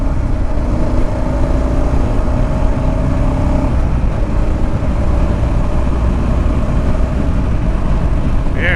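A Kawasaki KLR650 motorcycle rides at speed on the highway, its engine drone blended with heavy, constant wind roar that stays loud and close throughout.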